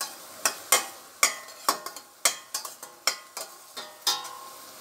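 Egg frying in a pan for vegetable fried rice, stirred with a spatula that scrapes and clacks about a dozen times in an uneven rhythm over a soft, constant sizzle.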